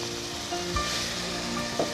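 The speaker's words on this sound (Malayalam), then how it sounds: "ചട്ടിയിലിട്ട് വഴറ്റണം" Ground coconut paste with garlic, cumin, turmeric and green chilli sizzles faintly in a pan as it is sautéed for Kerala pumpkin erissery. There is a soft, steady crackle and a couple of brief stirring knocks.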